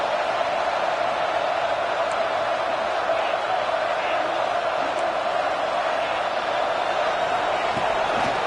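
A crowd at a football stadium keeps up a sustained roar, a dense wall of voices that stays loud and unbroken throughout.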